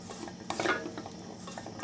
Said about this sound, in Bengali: আদা রসুন, পেঁয়াজ, লবণ দিয়ে সুন্দর করে ঠিক আগের মতো করে মেখে নিচ্ছি।